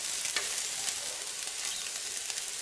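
Gherkins and coconut fry in a pan with a loud, continuous hissing sizzle and occasional light stirring scrapes, with no voices.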